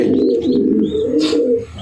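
Racing pigeons, a male and female pair, give soft low cooing that runs steadily through the whole stretch, close by, with a brief higher rustle or flutter near the middle and no voices.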